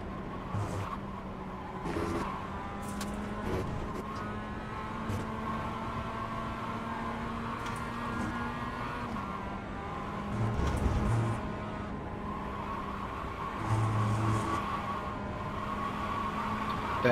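Simulated race car engines from the iRacing sim in a production car endurance race, a steady droning whine held throughout with brief louder swells as one car closes on and overtakes another.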